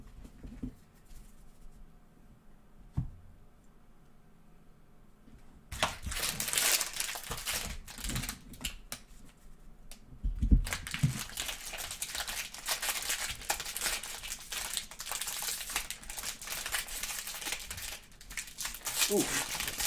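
Paper crumpling during a live trading card box break, crackling in bursts and long rustling stretches that start soft and grow loud and close, with a few sharp handling knocks.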